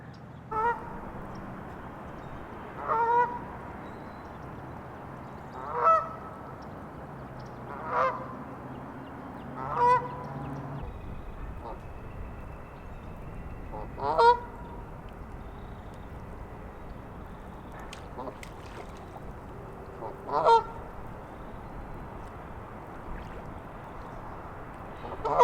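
Canada geese honking every few seconds in a southern wetland in spring, loud nasal calls ringing out across an open space over a quiet background hum.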